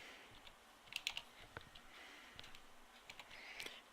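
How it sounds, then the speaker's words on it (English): Soft, scattered keystrokes tap on a computer keyboard, faint and fairly close, in uneven short bursts with brief pauses and no talking. "So when they get here, they will type in Tim"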